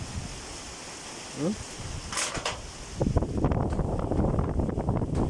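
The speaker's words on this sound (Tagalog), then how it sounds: "Ayan oh, ang lakas ng hangin oh." Wind blows in uneven gusts, picking up and growing steadier and louder partway through, with brief faint creaks early on.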